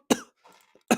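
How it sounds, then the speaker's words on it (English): Two sharp, close coughs from a man, one at the start and one at the end, with a faint breathy sound between them. "it's making me choke, coughing now."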